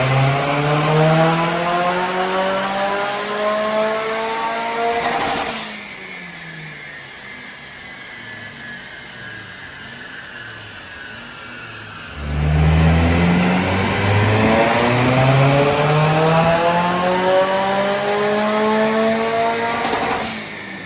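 A Mitsubishi Colt CZT fitted with an Arashi hybrid turbo accelerates hard on the road, its engine note climbing loudly through the revs, easing off to a lower drone midway, then pulling strongly again.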